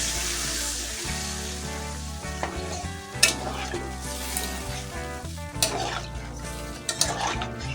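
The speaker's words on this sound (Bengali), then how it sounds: "এবার আমি জল ঢেলে দেব" Water goes into a pan of frying masala while making a fish-egg roll dish, a continuous close sizzle and bubbling with occasional louder splashes and stirring knocks, a low steady hum running beneath.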